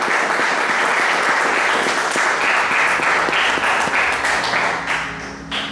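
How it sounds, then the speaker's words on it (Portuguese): Congregation at an evening church service applauding the Lord, sustained loud applause from many hands that thins out toward the end. "Aplauda o Senhor Jesus nessa noite."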